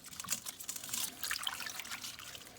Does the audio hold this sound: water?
yes